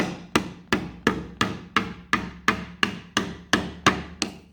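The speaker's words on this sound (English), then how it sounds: "you just want to take your little rubber hammer and just tap it on" A rubber hammer taps a lid down in eleven evenly spaced, close, solid knocks, each ringing out briefly before the next strike, with no voices.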